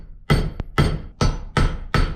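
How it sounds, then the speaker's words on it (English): Five sharp metal-on-metal hammer strikes on a bolt set against a stuck axe head, driving it loose; the blows land at a steady, slightly uneven rhythm, loud and close, each with a brief ringing decay and no talking. "I'm gonna try to hammer it just with this bolt on top."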